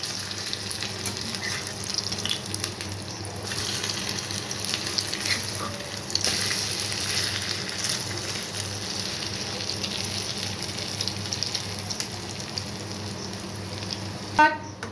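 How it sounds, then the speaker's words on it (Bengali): Bread slices frying in oil for egg toast, a steady close sizzle with soft stirring and spatula scrapes running throughout, plus a brief sharp clatter near the end. "আবারও একই পদ্ধতিতে আমি এই পাউরুটিগুলোকে ভেজে নেব"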